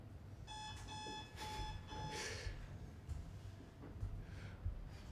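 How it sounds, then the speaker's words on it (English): A programmed electronic alarm gives four evenly spaced, clear beeps, then fades into soft breathy background noise. "if you hate beeping sounds, you've come to completely the wrong session."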